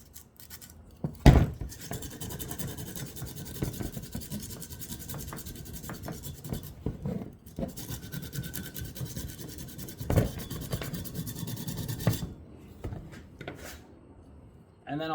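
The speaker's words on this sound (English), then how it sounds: "Then I'll give it some sanding." Rhythmic back-and-forth rasping of sandpaper on a copper pipe, close and continuous, pausing briefly twice before resuming.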